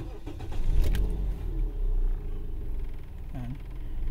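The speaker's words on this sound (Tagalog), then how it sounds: "So ayan, start ko yung makina." A car engine cranks and catches, a low rumble swelling and settling into an idle, close by, with a person speaking over the sound in Filipino.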